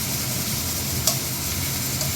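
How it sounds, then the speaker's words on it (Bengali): Potatoes and vegetables with spices fry in a pan, a steady close hiss of sizzling with a light stir or tap near the middle, no voices. "সবজিটা খুব ভালো করে ভাজবো। এই যে আলুটা ভাজা হয়ে গেছে"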